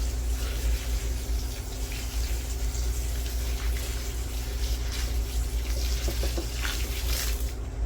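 Water runs steadily from a tap close by, a continuous hissing splash that stays even throughout.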